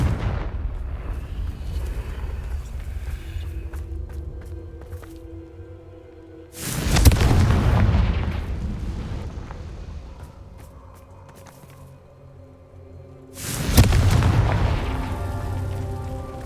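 Confringo blasting-spell explosions in the video game Hogwarts Legacy: two heavy booms, each swelling and rumbling for several seconds, sit several seconds apart above a quiet game ambience with faint footsteps.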